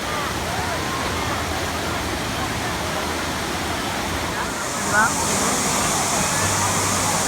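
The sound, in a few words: wave pool waves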